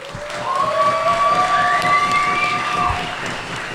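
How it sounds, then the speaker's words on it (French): A live audience at a board game show claps loudly and continuously, with a whistle rising over the applause before it fades slightly. "on peut leur donner une très chaude main d'applaudissement"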